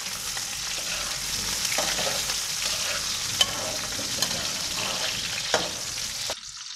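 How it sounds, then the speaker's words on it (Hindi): Whole spices lightly frying in oil in a kadhai for chicken bhuna masala, a steady close sizzle with a few sharp pops and crackles, ending in a sudden cutoff near the end; no talking. "इनको हम हल्का सा फ्राई करेंगे।"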